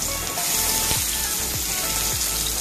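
Onions fry in a pan with a steady, loud, close sizzle, broken by a few faint clinks or scrapes of stirring.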